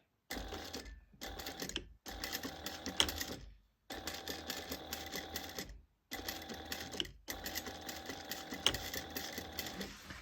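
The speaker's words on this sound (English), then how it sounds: "you're going to sew back and forth" A sewing machine stitches back and forth while backstitching a fold-over project, running in several steady bursts of motor whir separated by short pauses, fairly close and alone.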